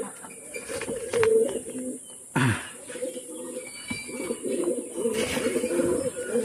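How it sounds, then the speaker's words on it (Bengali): A paired pigeon coos up close in a repeated low, throaty rhythm. Faint chirps sound in the background, and there is a brief burst of movement noise. "এটা উস্তাদের দিয়ে একটা পেয়ারিং কবুতর"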